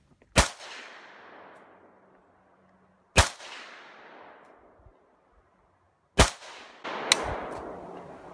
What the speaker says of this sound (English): Let's fire another group, Bob.